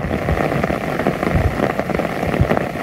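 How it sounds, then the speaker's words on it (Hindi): Heavy April rain pours down steadily in Sarai Saleh, Haripur, Hazara, a dense continuous hiss of drops drumming on surfaces close by, with no voices. "आप खुद देख सकते हैं कितनी तेज़ बारिश है।"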